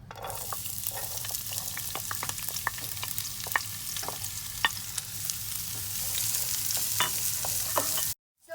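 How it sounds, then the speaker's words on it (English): Onions sauté in oil in a pan for chicken fried rice, giving a continuous close sizzle scattered with sharp pops and spatters, then cutting off abruptly near the end. "We're going to saute our onions in there until they turn transparent."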